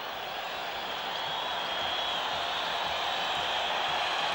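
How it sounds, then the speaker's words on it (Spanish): Stadium crowd at the Ecuador–Peru World Cup qualifier applauding the goalscorer, a continuous broad hiss of distant clapping that swells slightly and stays even, with no distinct individual claps. "Aplausos para el goleador"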